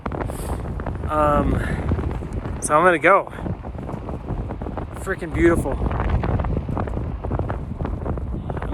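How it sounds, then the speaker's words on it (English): Strong wind buffets the microphone at a high mountain lake on a stormy day, a steady roar running throughout while a voice speaks briefly over it. "It's starting to get windy and stormy."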